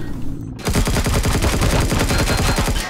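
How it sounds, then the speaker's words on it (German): Rapid automatic gunfire from Zirax enemies in the space game Empyrion erupts after a brief pause, a loud, close, continuous burst of evenly spaced shots lasting several seconds with no talk over it. "Von wo schießt denn hier der Zirax noch?"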